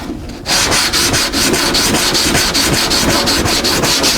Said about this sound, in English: that's a piece of a Bondo squeegee right there with a piece of 80 grit on it